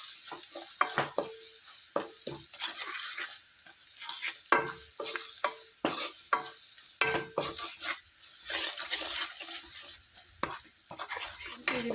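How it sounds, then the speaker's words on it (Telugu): Ginger garlic paste with salt frying in a pan: a bright, continuous sizzle with frequent scraping and tapping of a stirring spoon, close and fairly loud, no voices. "అల్లం వెల్లుల్లి పేస్ట్ పచ్చివాసన పోయేంత వరకు చక్కగా ఈ విధంగా ఫ్రై చేసుకోవాలి"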